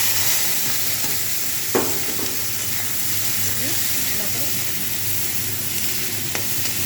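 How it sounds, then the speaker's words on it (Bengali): Salted fish dropped into hot oil in a pan gives a loud, continuous frying sizzle close by, with one sharp crackle early on and a smaller pop near the end. "তেলটা গরম হয়ে গেছে, এবার মাছগুলোর মধ্যে দিয়ে দিচ্ছি।"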